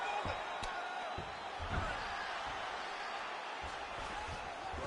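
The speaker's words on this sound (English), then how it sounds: "huge pop from the crowd as the fighters get back up to their feet" A crowd roars through a UFC Brawl 19 video game fight between Rountree and Krylov as the fighters get back to their feet. The cheering is steady and broad, with a few sharp thuds and slaps above it and a commentator talking over it.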